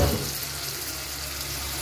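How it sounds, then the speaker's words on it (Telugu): Marinated chicken frying in about three tablespoons of hot oil, a steady, dense sizzle that bursts up when the pieces go in, close and continuous, with no talking. "చికెన్ ఆల్రెడీ మ్యారినేట్ చేసి పెట్టుకున్న చికెన్ని యాడ్ చేశాను ఫ్రైకి"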